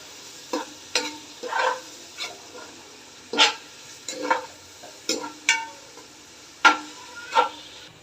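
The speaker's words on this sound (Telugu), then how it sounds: "ఎరుపు రంగులో వచ్చేదాకా బాగా వేయించాలండి ఉల్లిపాయలు" Onions frying in a hot pan for mutton soup, with quiet sizzling and about a dozen sharp scraping stirs spaced unevenly. The sound is close and fairly soft, with no talk.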